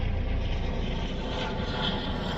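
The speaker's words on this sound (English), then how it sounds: "Oh, it's a helicopter. Hello! It's a police helicopter." A police helicopter flies overhead above fishing ponds, its engine and rotor making a continuous broad roar that stays steady and moderately loud for the whole stretch, with no talking.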